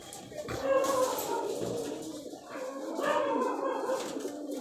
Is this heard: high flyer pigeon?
yes